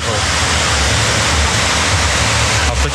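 Ocean surf near Mirissa, Sri Lanka, rolls in as a dense, continuous roar of breaking waves, loud and close, steady for the whole stretch.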